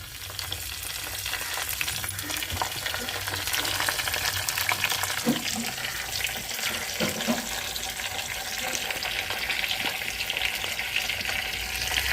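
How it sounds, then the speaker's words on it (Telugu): Steady, crackling sizzle of chana dal, urad dal, mustard seeds, cumin and curry leaves spluttering in hot oil, continuous and close, with faint occasional pops and no talking. "పోపులు వేస్తున్నాయి"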